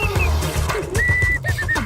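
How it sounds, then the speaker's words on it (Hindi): A person whistles with the mouth, producing thin, wavering tones that slide between pitches in short phrases. The whistling sits over a dense, loud background of voices and low rumble. "अभी तो ये मुंह से सीटी बजा रहा है,"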